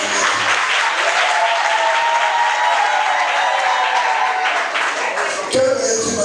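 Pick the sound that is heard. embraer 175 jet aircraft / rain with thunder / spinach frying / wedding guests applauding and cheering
wedding guests applauding and cheering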